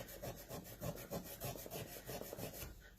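3M abrasive cloth rubs rust off a steel tool in quick, rhythmic back-and-forth strokes, about ten rasping passes close to the ear, stopping just before the end.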